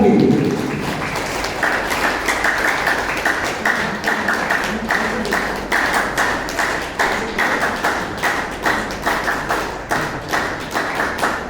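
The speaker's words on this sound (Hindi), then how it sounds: "अंतिम एक बार फिर से तालियां जोरदार स्वागत के लिए" A seminar audience in Jodhpur gives sustained applause to welcome a speaker at a Gita gathering, and the claps gradually fall into a steady, rhythmic unison pattern.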